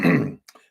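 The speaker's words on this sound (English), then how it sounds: "Excuse me while I clear my throat here." A person clears their throat, one short, loud rasp followed by a couple of softer throaty catches.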